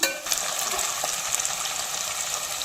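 Curry leaves hitting hot oil in a pan with onions and green chillies while a vegetable curry is made, giving a steady, bright sizzle and crackle that holds evenly throughout, close and moderately loud, with no talking.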